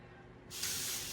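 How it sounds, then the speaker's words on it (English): A spray bottle of vinegar and water cleaning solution hisses in a sustained burst after a brief quiet moment, close and fairly loud. "But I'll spray that on here, give them a nice little rubby rub down"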